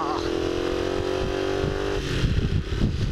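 A Honda CX motorcycle rides along at a low, steady engine drone, heard from the rider's position with wind noise. The engine note shifts slightly toward the end.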